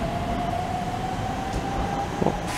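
An old Keihan 2400 series train rumbling heavily into platform 3 at Korien Station, Japan, with a faint whining tone running through it, close and loud, with a brief squeal near the end.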